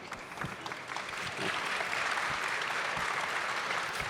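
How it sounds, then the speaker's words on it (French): Studio audience applauding, a dense steady clatter of many hands that grows slightly fuller as it goes on, heard at moderate distance and fairly soft, with no voices on top. "je sais pas quelle partie ils applaudissent"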